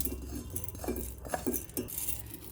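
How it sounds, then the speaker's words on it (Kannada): Roasted parboiled rice tipped from a pan into a mixer jar, with a few light metallic clinks and scrapes of spoon against steel spread across the moment at close range. "ಎಲ್ಲ ಹುರಿದಿರೋದನ್ನು ಮಿಕ್ಸಿ ಜಾರ್ಗೆ ಹಾಕ್ಕೊಳ್ತಾ ಇದ್ದೀನಿ."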